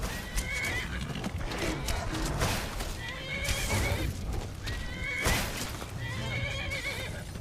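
A horse in the video game Skyrim whinnies repeatedly over a steady clip-clop of hooves, loud and close, with the calls recurring every second or two.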